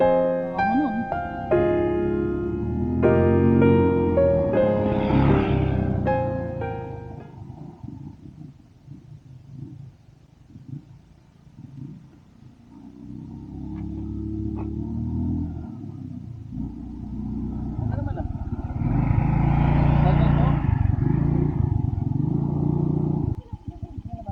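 A father's repaired motorcycle is test-run on a rural road, its engine rumbling and revving in uneven bursts, easing off and rising again over about twenty seconds, fairly close.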